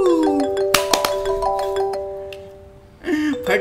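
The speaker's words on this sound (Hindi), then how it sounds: "अजय का फोन आ गया।" A tonal electronic ringtone plays, sustained notes with clicking taps over it, then pauses briefly before the melody starts again.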